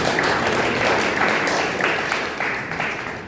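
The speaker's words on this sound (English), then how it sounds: "And lastly, a round of applause for you," An audience at a youth debate in Kabwe claps together, a steady, dense round of applause that holds for a few seconds and tapers slightly near the end.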